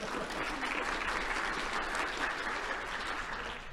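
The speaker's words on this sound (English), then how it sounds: "So let's give her a round of applause." An audience at a technical conference talk applauds, a continuous wash of many hands clapping, steady and moderately distant, with no break for the whole stretch.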